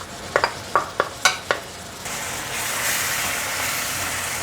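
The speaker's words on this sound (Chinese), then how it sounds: "把金针菇炒成焦黄色" Enoki mushrooms stir-fried in hot oil: a run of six sharp spatula clacks against the wok, then a steady hiss of frying that swells and continues, close up with no speech.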